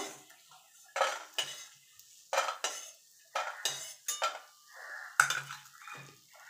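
Fried lentil dumplings are scooped from a pan into a bowl, with about a dozen sharp metal clinks and scrapes of utensil against cookware, close up and separated by brief quiet gaps.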